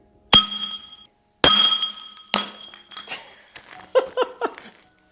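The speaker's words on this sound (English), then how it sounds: "I've centered the bottle in the frame, and I'm going to drop it." A glass bottle hits a hard floor three times, each drop a sharp bright clink with ringing overtones, followed by quicker smaller rattling bounces.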